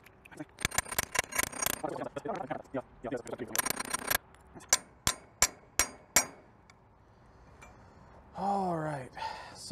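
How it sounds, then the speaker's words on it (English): Sharp metallic hammer blows ring out on a homemade metal bending jig, first a dense flurry of strikes and then about five separate loud clangs, with a brief voice toward the end. "grab the hammer, push this"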